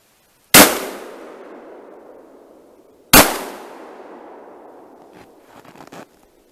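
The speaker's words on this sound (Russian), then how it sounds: "Вот это слышно, вот это выстрелы, так выстрелы." Two loud, sharp shotgun blasts from an IZh-27E loaded with foam wads ring out about two and a half seconds apart outdoors, each with a long decaying echo, followed by faint rustling.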